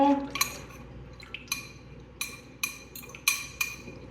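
Egg is whisked in a bowl with melted butter for a blueberry lemon loaf batter, giving a faint, irregular series of light utensil clinks against the bowl.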